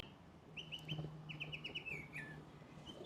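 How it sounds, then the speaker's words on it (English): A pet bird indoors chirps in quick, high bursts, a few short notes then a run of rapid chirps, faint and close with no talking over it. "The fact that the bird trying to talk over me is crazy."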